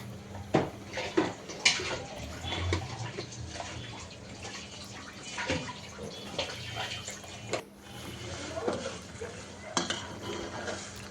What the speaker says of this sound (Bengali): এখন মশলাটা কষিয়ে নিবে